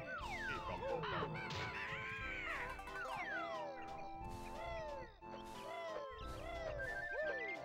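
Cartoonish bird honks, squawks and chirps from the Banjo-Kazooie video game pile up in a busy, continuous chorus of swooping calls, loud and close throughout.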